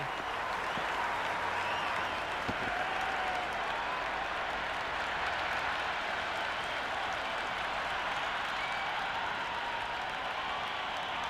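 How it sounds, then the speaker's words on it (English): Raucous cricket stadium crowd from the video game Cricket 26 during a Big Bash match, a dense continuous roar of cheering and applause that stays loud and steady throughout. "The crowd are really getting quite raucous. It's going to be difficult to focus down in the middle with this amount of noise."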